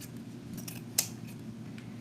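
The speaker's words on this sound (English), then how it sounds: "And I'll trim them off together." Scissors trimming fall wreath materials, a single quick close snip standing out over a low background hum, with faint rustling around it.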